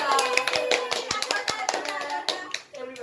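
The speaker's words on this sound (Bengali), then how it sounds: "হাততালি ওর জন্য সবাই" A small group clapping for a child at the end of a home memory game, with quick uneven handclaps up close mixed with people talking and a voice.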